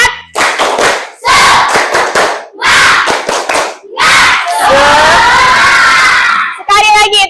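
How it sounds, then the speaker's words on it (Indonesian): Schoolchildren perform a rhythmic clapping chant in a classroom: bursts of group claps in a patterned beat, then loud shouting voices in unison, close and energetic. "kita tepuk semangat dulu ya. Tepuk semangat"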